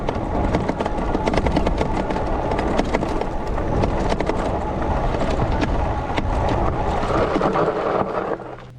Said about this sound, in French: Là, vous voyez le freinage d'urgence.